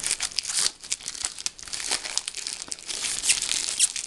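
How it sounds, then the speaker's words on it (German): Plastic foil wrap peeled off a mediabook gives loud, close crinkling and crackling in continuous irregular bursts, with occasional sharper tearing sounds. "Ich mache jetzt erstmal die Folie ab und dann kann man es einmal näher zeigen."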